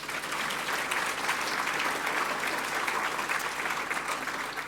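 A sustained round of audience applause at a leadership event, with dense, even clapping from a sizable crowd filling the whole moment.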